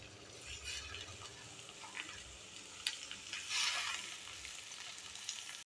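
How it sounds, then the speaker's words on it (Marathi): Chopped onions frying in a pan for butter pav bhaji, giving a steady, dense sizzle with brief stirring scrapes and a few sharper crackles, no voices. "कांदा लालसर भाजस तोपर्यंत फ्राय करून घ्यायचे आहे."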